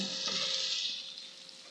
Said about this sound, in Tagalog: Ilagay na natin yung bawang. Ayan. Saute lang natin ito.